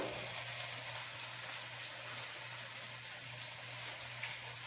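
Butter sizzling in olive oil in a pan, a steady, faint hiss and crackle running evenly with no voices.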